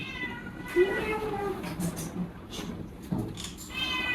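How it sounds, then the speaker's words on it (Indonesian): A cat at a school gives several short meows in quick succession, close and fairly quiet, with people talking faintly in the background. "Nah, kucing, ini."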